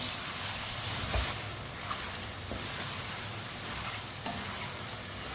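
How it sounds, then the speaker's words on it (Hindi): Tomatoes cook in a pan with chicken and turnip, a steady, dense sizzle and hiss throughout, broken by a few light scrapes and stirs, close and loud without any speech. "टमाटर को भी 2 मिनट के लिए पका लेते हैं।"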